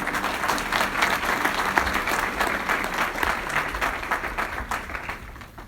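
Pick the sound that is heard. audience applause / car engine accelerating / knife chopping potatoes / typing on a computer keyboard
audience applause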